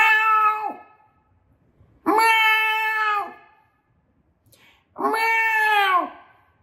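A voice imitating a cat gives three loud, close drawn-out meows, each about a second long, separated by short pauses.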